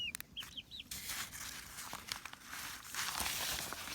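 A chicken pecks and tears at an old 1939 newspaper, paper crinkling and rustling steadily nearby, with a few short clucks at the start.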